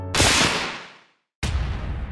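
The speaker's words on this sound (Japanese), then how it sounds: "響く銃声の耳鳴りがよりも早く" A single loud gunshot in a manga-style drama cracks out sharply and decays over about a second, followed by a brief silence and then a second loud blast-like burst that sustains to the end.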